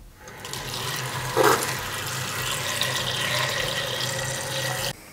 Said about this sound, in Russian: И набираю холодную воду.